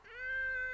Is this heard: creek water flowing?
no